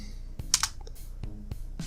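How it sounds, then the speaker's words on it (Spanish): A computer keyboard key being pressed, heard as a few sharp, close clicks and taps spread across a quiet moment with no talking. "Lo siguiente que haremos será presionar la tecla Enter."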